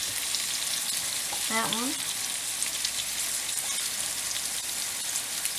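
Yellow summer squash sautes in olive oil with a steady, even sizzle that runs from start to end, and a brief voice cuts in once near the middle.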